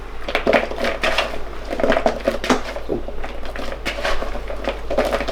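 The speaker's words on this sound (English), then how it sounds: "So just mix the beans." Green beans being stirred in a cooking pot, a spoon scraping and clinking against the metal in a steady series of soft knocks and rattles, close up with no talk.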